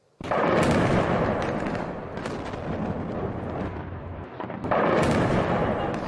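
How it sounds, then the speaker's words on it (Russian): Explosive-laden armoured personnel carriers blow up amid fighting in Aleppo: two heavy, booming blasts, the second a few seconds after the first, each trailing a long rolling rumble. "На этих кадрах из Алеппо не авиаудары, а взрывы бронетранспортеров, начиненных взрывчаткой."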